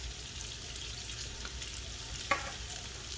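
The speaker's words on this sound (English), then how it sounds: "While the meat's still cooking, they got all the oil and the ginger garlic shallot flavor in." Meat sizzles steadily in hot oil with ginger, garlic and shallot, a quiet, even frying hiss with one brief utensil click partway through.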